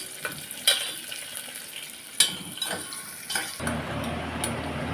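Onions frying in hot oil in a pan, a steady sizzle with occasional clinks and scrapes of a utensil stirring against the pan, and the hiss swelling louder near the end.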